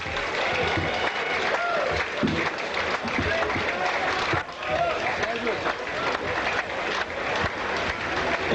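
A cricket crowd at Sri Lanka's first Test against England applauds as batsman Roy Dias walks off after his dismissal, a sustained, broad ripple of clapping with a voice talking over it.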